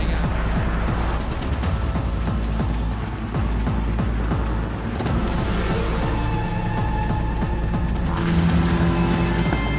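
Formula 4 race cars race at The Bend Motorsport Park with a continuous loud engine roar, rapid gear shifts and passing cars, building to a louder surge near the end, with no speech.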